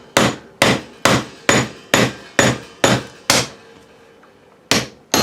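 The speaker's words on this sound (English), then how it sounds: "Try our plastic hammer again first." A plastic hammer striking a Jacobs drill chuck during a repair: seven sharp, evenly spaced blows ring out loud and close, then a pause before two more hits.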